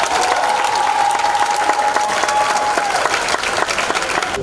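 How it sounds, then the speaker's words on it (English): An audience at a middle school graduation applauds a welcomed speaker, dense sustained clapping filling the whole stretch at a loud, even level with a faint tone running beneath. "let's give a welcoming round of applause to Sade King"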